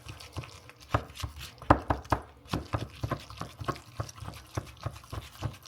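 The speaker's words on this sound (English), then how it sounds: "Now what are you doing? Stirring. I'm stirring." Melted store-brand cheese is stirred in a pot, giving a steady run of close, thick scraping and soft knocking strokes that repeat irregularly, heard alone without talk.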